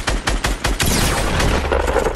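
Repeated gunfire bursts in Fortnite, several sharp loud blasts in the first second followed by a dense continuous wash of game combat noise, no talking.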